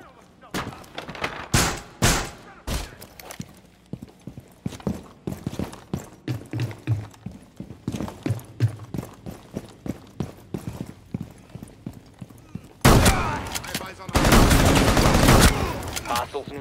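Gunfire in Rainbow Six Siege during a hostage situation: sharp single shots and short bursts cracking irregularly, close and loud, ending in a sustained heavy barrage of automatic fire.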